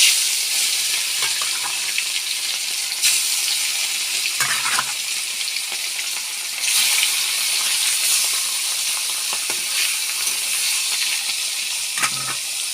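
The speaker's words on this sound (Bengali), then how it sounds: "তেলটা ভালোভাবে গরম হয়ে এসেছে, একে একে মাছগুলো দিয়ে দেবো।" Rohu fish frying in hot mustard oil in a kadai, a loud continuous crackling sizzle with bursts that swell as pieces go in, plus occasional low thuds, no talking.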